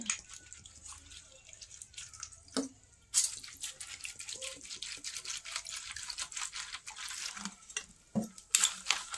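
Drinking water pours in a home kitchen, a light trickling and splashing with brief drip-like accents that run steadily over several seconds, quiet and close, with no talking.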